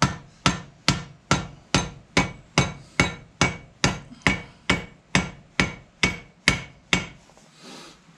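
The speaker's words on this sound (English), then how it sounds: "and then big hammer" A big hammer drives a brake anchor peg while new brake shoe linings are being fitted. About fifteen loud, sharp metallic blows land close by at a steady, even pace, each ringing briefly before the next, with no talking.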